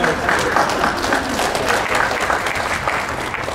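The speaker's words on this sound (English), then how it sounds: "Okay, but round of applause for the lefties." Audience at a stage fighting workshop at Animefest 2015 breaks into loud, sustained clapping, a dense, even patter of many hands that fills the room without pause.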